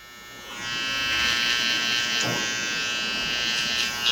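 Electric hair clippers tapering hair around the ears during a haircut, a steady close buzzing hum that switches on and runs continuously without talk.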